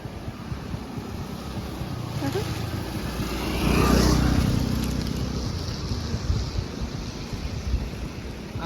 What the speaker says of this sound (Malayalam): ഹെവി വെള്ളച്ചാട്ടമാണ് മലമ്പുഴയിലെ ഹെവി വെള്ളച്ചാട്ടമാണ്.